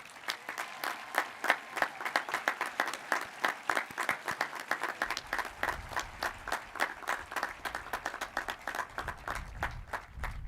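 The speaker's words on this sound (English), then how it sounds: "Way to milk that applause" A commencement audience claps steadily at a school ceremony, a dense, sustained patter of many hands heard from a distance, with low rumble joining halfway.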